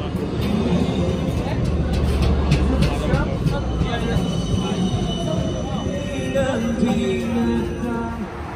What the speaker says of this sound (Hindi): And here comes the tram.